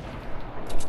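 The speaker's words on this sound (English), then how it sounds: "Use your grenade launcher, you heard?" A grenade launcher firing in the Fortnite video game, a dense, booming burst that fills the brief moment with low rumble and rising crackle.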